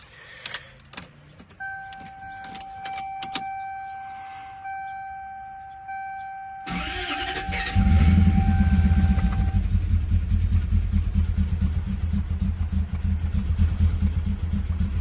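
Keys jangle and warning chimes ring from a Lexus SC400 V8 before the engine cranks and catches, settling into a loud, steady low rumble at cold idle, the car sitting on very old gas.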